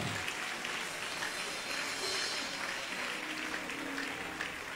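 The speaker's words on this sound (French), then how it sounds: "Applaudissez pour ça." Congregation at a church service applauding, a dense steady wash of many hands clapping throughout, moderately loud and fairly distant-sounding, with faint voices underneath.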